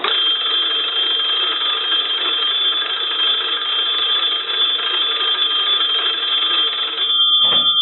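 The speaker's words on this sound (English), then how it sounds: "I want to go ahead and ring this telephone with a crank" Sumter wooden wall telephone with its bells rung by a hand crank gives a steady, loud, continuous metallic ringing that lasts about seven seconds, then stops abruptly with a short clatter.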